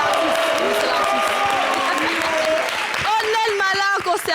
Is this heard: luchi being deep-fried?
no